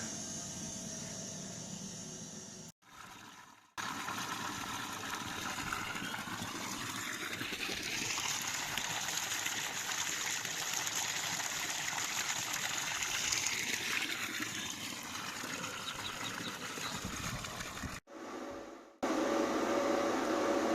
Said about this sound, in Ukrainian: Качаємо сьогодні воду, бо повний погреб.